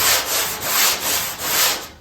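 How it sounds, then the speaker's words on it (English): A sanding block is rubbed by hand across a car fender in steady back-and-forth strokes, each pass a loud, close, gritty scrape repeating about every half second. "I'm going to kind of follow that with a sanding block"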